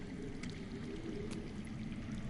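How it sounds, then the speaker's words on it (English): Underground water flows with a steady, low, rushing gurgle in a dark fantasy game scene, faint and continuous with a few small splashes on top. "I hear water. From underground."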